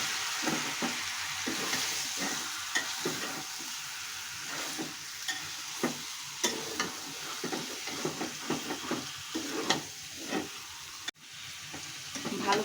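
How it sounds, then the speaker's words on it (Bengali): Meat and potatoes being stir-fried with salt in a kadai: a steady sizzle and hiss broken by repeated scraping strokes of a spatula, close and continuous, with no speech. "আলুটা দিয়ে মাংসটা আমি খুব ভালো করে কষাবো"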